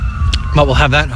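Emergency vehicle sirens wail in a city street, a thin wavering tone held somewhat distant beneath someone talking close by.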